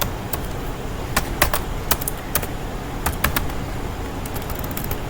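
Typing on a computer keyboard while writing a Selenium WebDriver script, with steady soft key taps and scattered sharper clacks over a constant background hum, no voice.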